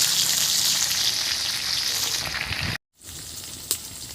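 Fish pieces frying in hot oil, giving a steady bright sizzle up close that cuts out briefly and then resumes more softly, with no talking.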